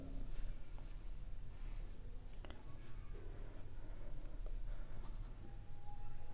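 Pen or marker writing continuously on a board or page during a Class 9 maths lecture, a steady scratchy scraping that runs throughout, close and moderately loud with no clear pauses.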